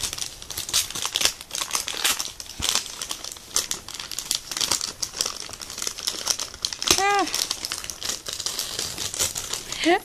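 Butterfly-and-flower washi tape is peeled one-handed off Christmas gift-wrap paper, giving a close, crackling run of crinkles, rips and paper rustles across the whole stretch, with a voice talking intermittently.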